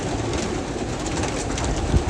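Dense cooing and wing noise from many pigeons fill a large pigeon farm in Egypt, a continuous close wash of bird sound with no talk.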